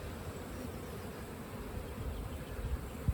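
Honeybees in an opened hive full of brood frames make a low, steady, close buzzing hum that holds evenly throughout, with no voices over it.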